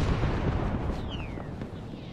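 Dense rumbling bursts of gunfire and mortar fire in Arma 3's Vietnam setting roll on without pause at a distance, a heavy booming wash with a thin whistle streaking through midway.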